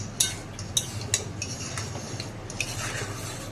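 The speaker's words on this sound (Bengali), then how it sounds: "ভালোভাবে আবারও নেড়ে চেড়ে নেব" Pav bhaji is stirred in a pan with a metal utensil, giving several sharp clinks and scrapes at irregular intervals over a soft background hiss. No one speaks.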